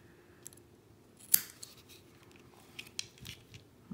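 Scissors snip cotton wick at the O-ring of an Asmodus Dawg RTA, a single crisp close cut followed by faint handling clicks, quiet overall.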